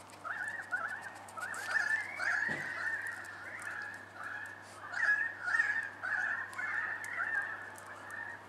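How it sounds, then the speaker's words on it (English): Australian birds call loudly outdoors in repeated honking, squawking bursts that continue throughout with brief pauses, no talking. "These Australian birds, man, they make some serious noises."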